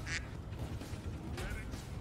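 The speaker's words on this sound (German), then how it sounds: "Da war eine Ente." A duck quacks in a video game, a few short nasal quacks heard up close over a low background hum.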